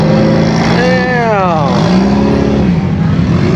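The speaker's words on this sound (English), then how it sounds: "This E92 M3 is just going hard." A BMW E92 M3 revs hard at a big Fresno car show, the engine note sweeping up and then falling back over a couple of seconds, set against a busy background of crowd and traffic noise.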